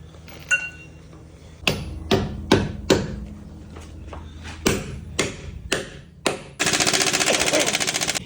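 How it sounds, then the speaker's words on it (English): A hammer strikes a lug nut extractor being driven onto a rounded lug nut, about ten sharp metallic blows in an uneven rhythm, close and loud, followed by a burst of rapid rattling. "Let's hammer one on here."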